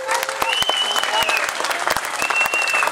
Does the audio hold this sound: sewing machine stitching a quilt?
no